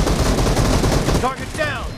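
Rapid automatic gunfire in the mobile shooter BGMI during a team deathmatch, loud, close bursts of shots with a brief game voice line near the end.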